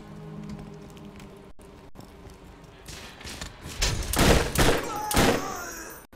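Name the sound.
gunfire from a gun in a video game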